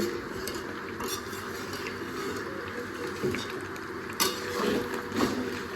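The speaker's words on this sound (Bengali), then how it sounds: "চিকেনটা কিন্তু কষা হচ্ছে" Chicken being stir-fried as kosha in a pot in a home kitchen, with steady sizzling and occasional metallic scrapes and clinks of a spatula against the pot, close and moderately loud.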